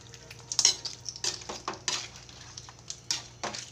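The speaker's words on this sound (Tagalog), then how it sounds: "Haluin po muna natin bago natin takpan." Ginataang langka with crab and pork cubes being stirred in a pot, a run of light spoon scrapes and clinks with a faint simmer underneath, close by.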